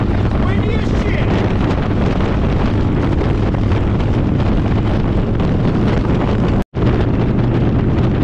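Strong wind roars across Iowa during a motorcycle road trip, a loud, constant rush buffeting the microphone with only a split-second dropout near the end.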